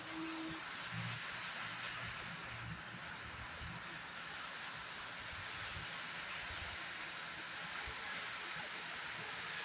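Light rain falls steadily during a storm, a continuous, even hiss of drops that stays at the same moderate level throughout without breaks.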